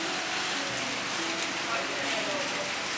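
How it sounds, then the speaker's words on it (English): Rain falls steadily on surfaces during a hike on Mount Batur in Bali, a dense even patter close by with no pauses across the span. "It's still raining."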